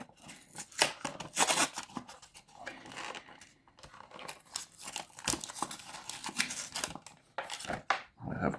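Packaging being cut open with scissors to free a 1/43 scale Altaya model of the 1969 Matra MS10 Formula 1 car, with close, crisp snips and crinkling plastic in irregular bursts.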